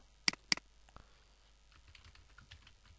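Computer keyboard typing while writing WordPress sidebar code, two sharp close keystrokes near the start followed by softer, scattered taps in a quiet room.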